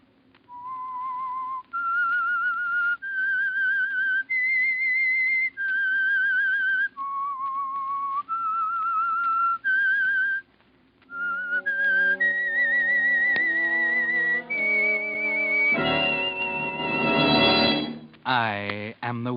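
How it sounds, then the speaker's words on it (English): A lone whistler carries the theme signal of The Whistler, a 1946 radio drama, in clear, sustained melodic phrases. A full orchestral passage then takes over and swells loudly to the close. "That whistle is your signal for the Signal Oil Program"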